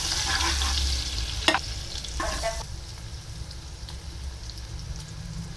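Half a capsicum fries in butter and oil with a constant close sizzle, broken by a few sharp spoon scrapes and clinks as it is stirred, then the hiss settles softer; no one speaks.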